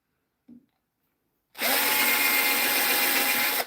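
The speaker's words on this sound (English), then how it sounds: "Let's drill some holes for legs." After a small knock, a power drill starts and bores leg holes into wood, a loud continuous grinding whir that runs to the end.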